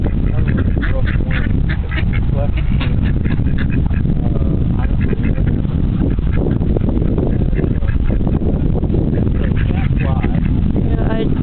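Ducks quack repeatedly in a noisy cluster nearby while people talk over the birds throughout.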